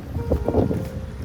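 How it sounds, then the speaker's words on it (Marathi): Strong wind gusting across an open outdoor spot near a hill temple in the monsoon, a loud rough buffeting roar against the microphone that rises and falls over a second or so. "आपल्याला वारा पण जोरात येतोय."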